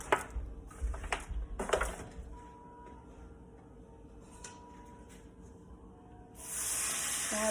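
A stuffed ribeye steak hits a skillet with butter: a few clattering handling knocks, a quiet stretch, then a bright, steady sizzle that swells loudly over the final second.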